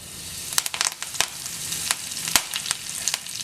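Cumin seeds and curry leaves sizzling in hot oil, with sharp crackles and pops bursting over a low steady frying hiss, close and fairly loud.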